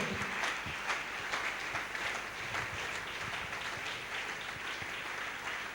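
A church congregation at a French-language Wednesday communion service applauds and cheers in praise, sustained dense clapping throughout, loud and steady with no clear speech.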